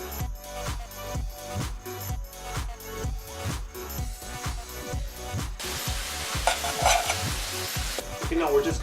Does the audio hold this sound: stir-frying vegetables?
yes